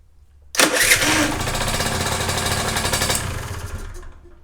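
A small 50cc motorcycle engine from 2020 starts up and runs at a steady, buzzy idle close by, then cuts out after a few seconds.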